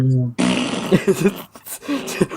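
A voice imitates a long, drawn-out fart with buzzy, wavering blowing noises that run on for about two seconds after a brief hum at the start.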